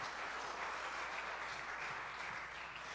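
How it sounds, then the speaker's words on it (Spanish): Steady applause from a church congregation, a dense even wash of clapping that holds at a constant level throughout with no voices standing out. "Denle un aplauso a Jesús."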